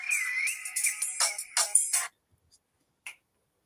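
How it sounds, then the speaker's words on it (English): A phone ringtone plays briefly as a wavering electronic melody with percussive bursts, then stops, followed by a couple of faint clicks. "Yeah, that was my phone."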